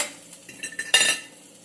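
Onions sauteing in a skillet give a soft sizzle, while a utensil stirs and scrapes the pan in a few quick clinks, with one louder scrape in the middle, all close and fairly quiet.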